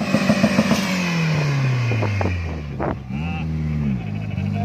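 A car launches hard, its engine note dropping as it bogs down at a Racewars recce at Tatu City, then picks back up after a clutch kick, loud and close with people talking over it.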